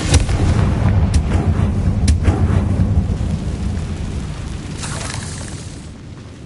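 A Confringo blasting spell in Hogwarts Legacy bursting with deep booming explosions, a loud rumbling impact followed by sharper cracks and a fading roar, with no talk over it.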